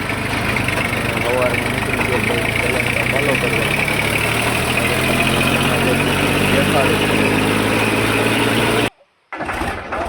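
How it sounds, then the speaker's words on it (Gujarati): A homemade blower machine drones steadily on a farm while loading fodder, a continuous engine-like roar with voices talking over it, cutting out abruptly near the end. "આપણી પાસે તો જે મશીન છે આપણું બ્લોઅર મશીન હતું ને આ મશીનમાં પાલો"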